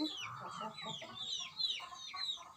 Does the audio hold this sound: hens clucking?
yes